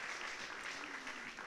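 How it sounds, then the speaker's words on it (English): Applause from a congregation at a church service, a dense, even patter of clapping heard fairly faintly and at a distance, with no voices over it. "Round of applause."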